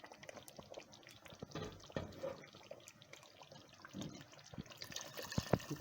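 Water pours and splashes into a pot of beetroot mutton curry (chukandar gosht) to make its broth: a steady close trickle with small splashes and clinks, and no talking.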